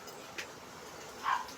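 A pet dog named Shadow yelps and whimpers at home in a few short, fairly faint bursts, with a brief higher cry near the end.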